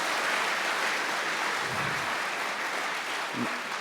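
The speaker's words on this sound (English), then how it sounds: "Warm applause, warm applause." Steady applause from a conference audience after a talk on game post effects, a dense continuous patter of clapping that holds at an even level throughout.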